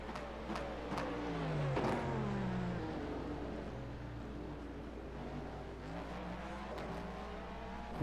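A prototype race car in a sim racing game overtakes an LMP2 car on track, giving a steady high engine drone with shifting pitch as the rival passes, and no one speaking.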